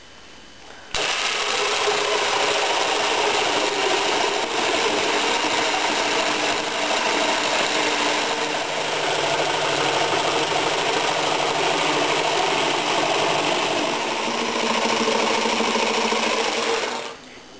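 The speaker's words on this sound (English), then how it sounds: "we'll go out to cutting some more panels here" A power saw cuts plywood hull panels for a boat, a loud continuous buzzing whine that starts abruptly, holds steady close by for about sixteen seconds, then stops.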